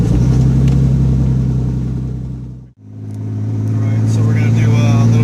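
A 1970 Datsun 240Z with a turbocharged L28ET engine drones steadily on a test drive, the engine note briefly cutting out before resuming, with voices talking over the cabin hum.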